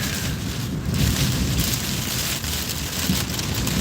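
Steady rain patters on a surface close by, a dense hiss with low rumbling gusts underneath and no talking.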